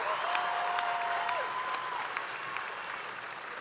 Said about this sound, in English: Let's give a big round of applause to Chris and his family on a job well done.